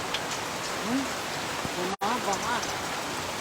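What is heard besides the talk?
heavy rain falling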